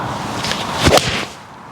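A single sharp, swishing strike of a 2024 Callaway Apex iron hitting a golf ball through turf lands near the middle, trailing off into a brief whoosh, with no voices.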